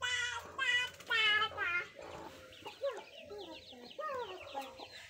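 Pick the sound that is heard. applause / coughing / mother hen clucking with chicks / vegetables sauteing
mother hen clucking with chicks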